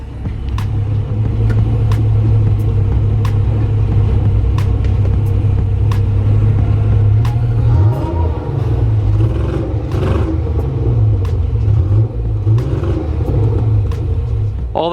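Pontiac Fiero kit car rebuilt as a replica Ferrari, its engine idling loud and close with a deep steady rumble, then blipped through a couple of revs that rise and fall, alone with no voices.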